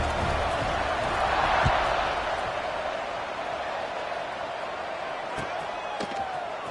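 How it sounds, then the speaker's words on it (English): Stadium crowd buzzing in the College Football 26 video game ahead of a kickoff, a steady broad roar that swells briefly and then holds, with a few faint thumps and a speaking voice over it. "this crowd is buzzing after that last score"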